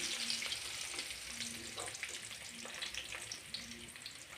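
Onions and curry leaves fry in oil in a pan after mustard seeds, a quiet crackling sizzle with scattered pops and faint stirring, close and low in level.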